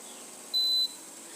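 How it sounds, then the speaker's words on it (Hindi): A digital kitchen timer is set while suji idli steam and chai boils, giving a single short, high electronic beep, clear and close over a faint room hum. "30 सेकंड का टाइमर हमने लगा दिया है"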